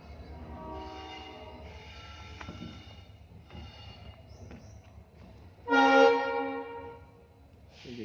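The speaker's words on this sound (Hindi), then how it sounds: "रेलवे स्टेशन पास में ही है यहाँ पे, इसलिए ट्रेन का साउंड आ रहा है पूरा।" A train passes near a railway station beside an electricity department junk yard, rumbling steadily with a loud horn blast late in the clip and some fainter honks earlier, heard at moderate distance.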